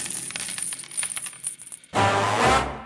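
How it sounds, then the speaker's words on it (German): A coin drops and rings out in a bright metallic clatter after soft preceding rattles, the sudden loud ring holding for about a second before fading, heard as a standalone sound effect with no speech. "denn springend klingt die Münze."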